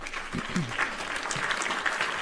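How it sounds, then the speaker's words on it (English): Quiet applause from a podcast studio audience for guest Becca Friesen, a brief patter of clapping with a voice briefly audible underneath. "You just get so many applause"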